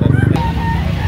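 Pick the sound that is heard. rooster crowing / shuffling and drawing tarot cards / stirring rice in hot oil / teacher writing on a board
rooster crowing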